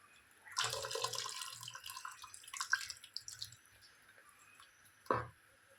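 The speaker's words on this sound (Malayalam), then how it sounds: "പുളിവെള്ളം ചേർക്കട്ടെ." Tamarind water pours into a taro curry in a pot, a soft splashing trickle lasting a few seconds, then a single wet drip or plop afterward; quiet and close, no speech.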